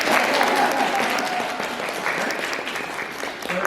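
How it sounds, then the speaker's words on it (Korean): A hall audience at an artist talk breaks into dense, sustained applause that stays loud and even throughout, close and full, with no voices over it. "박수리 한번 하고"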